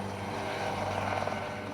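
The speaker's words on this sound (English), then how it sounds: "To find elk in this huge area, the researchers have to use a helicopter." Helicopter flying over a vast elk research area in Swedish Lapland, a steady droning rotor and engine hum with low tonal lines, continuous and fairly close, with no talk.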